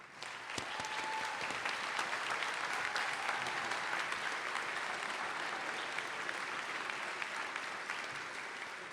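Sustained, dense applause from a large audience at a DePauw University alumni convocation welcoming the university president, steady and full throughout with no voices over it.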